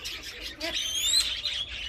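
Busy bird chatter from budgerigars and parrots in a garden aviary, high, warbling chirps and tweets from several birds, fairly close and continuous, with a faint murmur of background voices.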